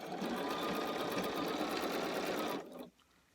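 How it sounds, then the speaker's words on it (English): A sewing machine stitches quilt fabric in one steady, fast whirring run at close range, stopping abruptly near the end and leaving quiet room tone. "I'm just gonna start sewing."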